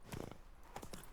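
Geralt's horse Roach in The Witcher 3: Blood and Wine, hooves clip-clopping in a quick trot, a few quiet hoofbeats close by.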